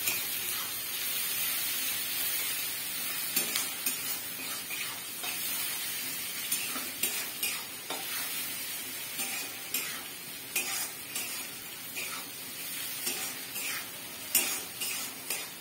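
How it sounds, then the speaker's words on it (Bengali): Onions frying in a pan with a little salt, a steady sizzle under repeated scraping and clinking stirs of a utensil against the pan, close and without speech. "পেঁয়াজটা ভাজা হচ্ছে"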